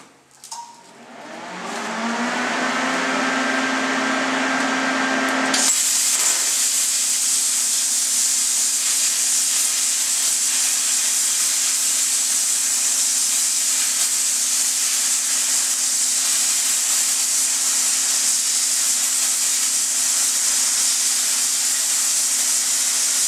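An Everlast PowerPlasma 60 plasma cutter cuts 16 gauge sheet metal freehand. A brief start-up rises into a loud, steady, harsh hiss that runs unbroken to the end, with no talking.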